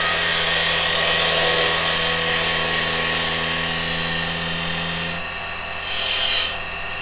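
A lathe turns a rough wooden bowl as an 80-year-old spindle gouge cuts it, giving a loud, steady droning hum with a constant scraping rasp that cuts off briefly near the end.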